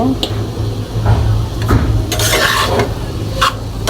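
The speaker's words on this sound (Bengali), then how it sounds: "এভাবে লাড়াচাড়া দিয়ে একটু দুই মিনিটের মতো রান্না করে নিলেই হয়ে যাবে আমাদের আলুটা" Potato filling with mint leaves and chili powder being stirred in a pan, with close, steady scraping and light clatter over a constant sizzle.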